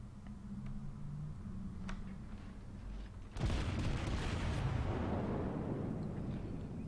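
Battleship Kongo's guns in World of Warships fire a salvo: a sudden heavy boom midway, preceded by low engine rumble and ticking, with a long rolling roar that slowly decays afterward, no talk.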